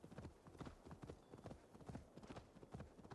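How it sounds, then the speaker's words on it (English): Hooves clip-clop steadily as a horse gallops in Assassin's Creed Valhalla, a fast, even rhythm of hoofbeats held up close and fairly loud with little else over it. "This guy can run there on his horse."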